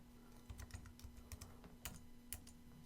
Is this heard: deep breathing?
no